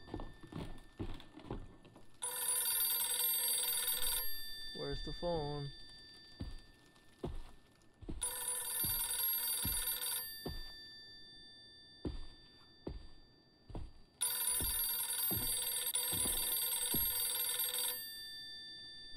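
An old-style telephone bell rings in the horror video game Visage, three long loud rings separated by pauses, with heavy footsteps thudding throughout.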